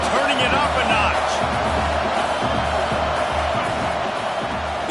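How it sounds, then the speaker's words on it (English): Football stadium crowd in a college football video game, Texas A&M against LSU, roars as a continuous loud cheer, with a commentator talking steadily over it. "this crowd is turning it up a notch."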